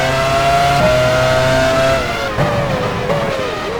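Formula 1 car entering the pit lane at Sepang in F1 Challenge 99-02, a loud, close engine whine holding steady, then easing down with small pitch dips as it slows.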